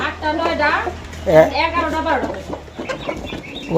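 Chickens cluck close by in a run of warbling, rising and falling calls that carry on for several seconds.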